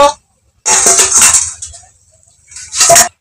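A pot lid lifted off a kadai of jute leaves (pat shak) simmering on the stove, giving two bright metallic clatters with clinks, the first longer, then a short second rattle after a quiet pause.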